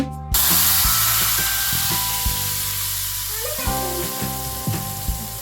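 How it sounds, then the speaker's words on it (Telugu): Crushed garlic and turmeric tempering fries in hot oil for Telangana pachi pulusu, a loud bright sizzle bursting in at the start and crackling on, with a few faint clinks of stirring. "ఇప్పుడు ఇందులోకి కచ్చాపచ్చగా దంచుకున్న వెల్లుల్లిని వేసి అన్నింటినీ బాగా ఫ్రై చేసుకోవాలి"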